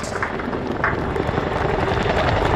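At an airshow, a Chinook helicopter gives a loud, steady rotor rumble with a heavy low throb. It sounds fairly close and continuous, with faint crowd or announcer noise mixed in.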